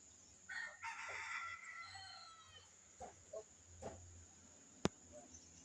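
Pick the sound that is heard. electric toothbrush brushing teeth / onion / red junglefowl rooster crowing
red junglefowl rooster crowing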